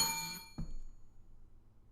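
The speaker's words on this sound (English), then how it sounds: "That was the worst bell I've ever heard." A single bell ding, judged at a press-conference Q&A: a brief, fairly loud metallic strike that rings with bright overtones, then fades quickly over a low background hum.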